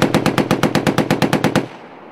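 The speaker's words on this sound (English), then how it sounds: "the students head to the live fire exercise where they will learn to shoot the 50 cal" A .50 caliber machine gun mounted on a Stryker fires during a live-fire training exercise, a loud close burst of about a dozen rapid, evenly spaced heavy shots that then fades into echo.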